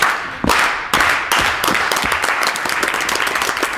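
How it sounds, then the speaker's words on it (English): A few loud, separate claps open what swells into a dense burst of audience applause at a comedy improv show, close and continuous to the end. "Slow clap."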